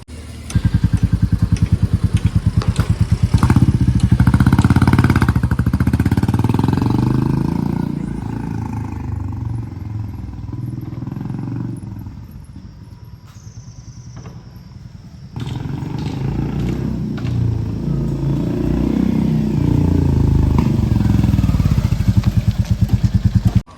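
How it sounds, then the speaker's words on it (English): A Royal Enfield Classic Reborn 350 motorcycle with an aftermarket HK Indori exhaust rumbles throatily and revs while riding, easing off to a quieter idle midway before roaring back up. "Let's ride this bike and see how it sounds when you ride."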